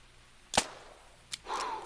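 A hunting rifle fires one sharp, fairly close gunshot in the theHunter 2017 game while shooting a cottontail rabbit. A second fainter crack or echo follows about a second later, then a brief ringing tone over quiet ambience.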